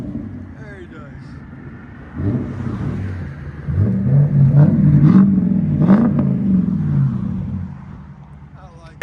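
A Lexus LS 430 V8 with a straight pipe exhaust revs close by, a deep rumble swelling into a louder, rising roar midway and then easing off while still running loud.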